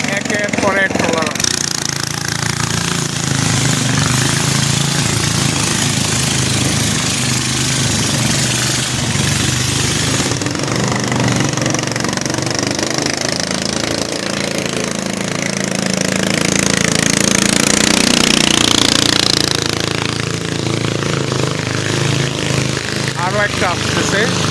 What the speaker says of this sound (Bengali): যানজট লেগে গেছে ট্রলারের, একের পর এক ট্রলার আসছে